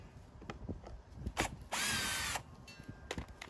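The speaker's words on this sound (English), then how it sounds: "take my trusty dusty drill here. We're gonna remove the two screws here, side casing, very lightly." A cordless power drill backs screws out of the side casing of a Westinghouse iGen2200 inverter generator, with short bursts and one longer steady whir, plus clicks and handling knocks between them.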